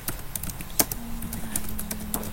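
Keystrokes on a computer keyboard while entering a network configuration command, quick irregular clicks close up with a faint steady hum underneath.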